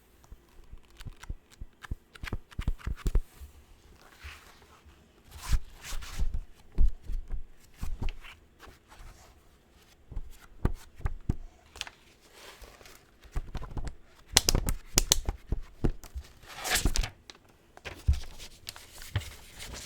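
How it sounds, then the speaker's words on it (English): Paper rustles and flaps as thick pages are turned one after another, soft, close and irregular, with quiet handling sounds between. "But I like how thicker pages sound as well."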